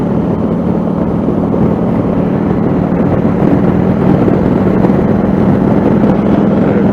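Harley-Davidson Fatboy motorcycle engine at speed on the road, a steady loud low rumble with wind noise, continuous and close throughout with no talking.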